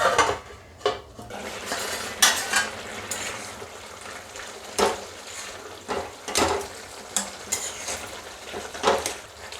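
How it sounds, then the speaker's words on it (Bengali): Metal cookware clatters as a lid and utensils knock against a pot of cabbage and potato cooked with a fish head, giving sharp, irregular clinks and scrapes close by with no talk. "বাঁধাকপি আর আলুটা সেদ্ধ হওয়া পর্যন্ত আমি এটা ঢেকে দেবো"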